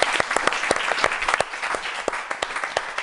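Studio audience on a televised Italian football show clapping briskly, a close, steady patter of individual claps lasting a few seconds with no talk.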